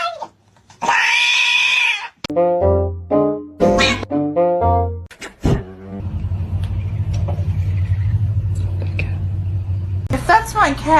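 A cat lets out a drawn-out, clear meow near the start, followed by other animal-like vocal sounds and people talking over a steady low background hum.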